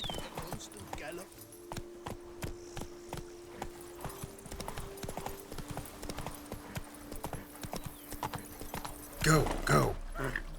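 Rhythmic hoofbeats of a galloping horse in the video game The Witcher 3: Wild Hunt, steady clip-clop close up, with a brief louder burst near the end and a voice speaking briefly.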